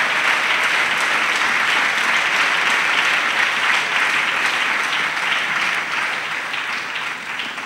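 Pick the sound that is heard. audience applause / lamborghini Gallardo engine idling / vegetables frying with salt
audience applause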